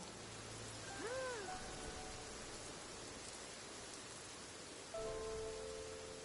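Rain falling in a video game: a steady, soft broadband hiss throughout, with a few faint tonal chimes drifting over it.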